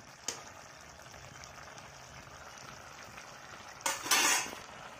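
Capsicum sabji (shimla mirch) fries in a pan in a village kitchen with a low, steady sizzle. A short metallic scrape comes early, then a louder burst of stirring and sizzling near the end.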